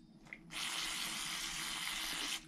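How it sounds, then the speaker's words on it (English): Brake cleaner sprays in one steady hiss for about two seconds onto Ford 7.3 Powerstroke HEUI diesel injector parts, loud and close, then stops abruptly. "And then I use a little bit of brake cleaner"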